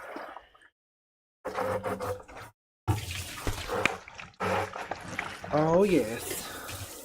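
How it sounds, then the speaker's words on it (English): Soapy water is dumped and splashes across a floor during a home-brew bottling day, with splashing bursts broken by short silent gaps and voices speaking over the sound. "all this soap and soapy water I'm dumping on the floor is going to be fine because I'm going to mop"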